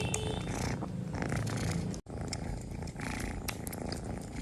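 A cat purrs continuously up close, a steady soft rumbling with a brief break midway.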